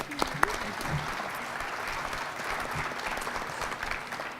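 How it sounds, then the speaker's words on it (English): An audience at an NFL Draft community outreach meeting applauds a speaker, sustained clapping with a couple of sharp knocks at the start, steady and moderately close. "Let's give her a round of applause."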